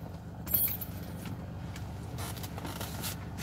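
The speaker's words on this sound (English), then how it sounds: "Right then, keys." A set of keys jangles up close with metallic clinks and rattles, handled during preflight checks before a flight, with a steady low rumble underneath.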